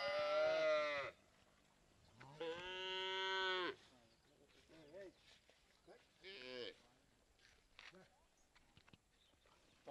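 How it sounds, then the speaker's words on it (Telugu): Ongole and Punganur cows low close by, with two long, loud moos followed by several shorter calls and grunts separated by quiet pauses. "అది ఒరిజినల్ పొంగనూరు, ఇది ఒరిజినల్ ఒంగోలు ఆవు."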